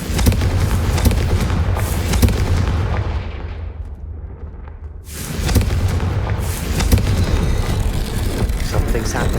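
A fiery Confringo spell explosion in Hogwarts Legacy erupts as a loud, sustained roaring burst, dipping briefly before a second heavy blast rumbles on with crackling debris.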